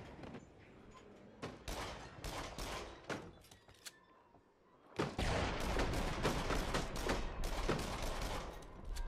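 Rapid gunfire from the VR shooter Until Dawn: Rush of Blood on PSVR: sharp, loud shots in quick irregular bursts, sparse at first and then a dense, sustained volley over a constant rumbling background, with no speech.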